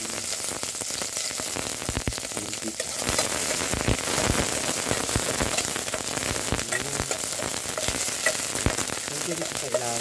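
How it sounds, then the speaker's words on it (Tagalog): Chopped onions sizzling in hot oil in a pan, a dense, steady crackle that grows a little louder partway through and carries on throughout without pause. "Sa pag-isa, sa mainit na mantika, ang gusto kong unahin para mas mabango ay ang sibuyas."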